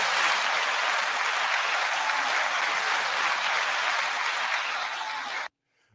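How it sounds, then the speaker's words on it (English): Steady, dense applause from a crowd rolls on evenly for several seconds at full strength, then cuts off abruptly into silence. "9 second applause."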